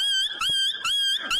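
A dog gives a loud, high-pitched whine close by, rising and falling in four quick repeated pulses with no talking over it.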